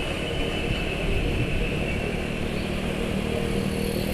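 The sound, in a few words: motorcycle engine running with strong vibration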